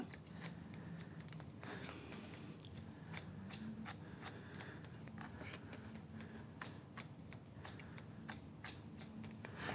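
Scissors trimming hair on a mannequin for a men's classic cut, a quiet close series of crisp snips in an uneven rhythm.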